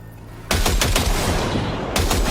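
Rapid automatic gunfire at a firing range in the video game Cyberpunk 2077: a loud, continuous burst starts after a brief lull, then a second burst follows close behind.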